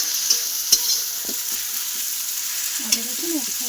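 Ginger-garlic paste fries in a pan for egg masala pulao, a continuous close sizzle with a few sharp spoon clinks and scrapes against the metal.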